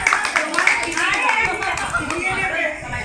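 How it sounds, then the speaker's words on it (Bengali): A group at an anniversary dinner gathering claps together, a brief patter of hand claps heard under loud overlapping talk from people nearby. "এই সবাই হাততালি দাও, হাততালি দাও"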